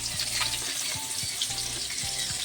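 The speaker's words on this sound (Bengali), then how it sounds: "কড়াইতে মাছ ভাজা হচ্ছে।" Steady, close sizzling of fish frying in a wok, with a few light spatula strokes scraping the pan over the continuous crackle of oil and no talking.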